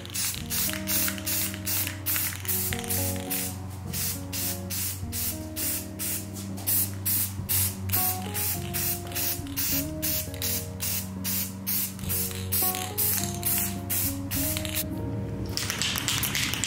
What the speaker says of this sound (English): So we're just going to do light coats of paint here.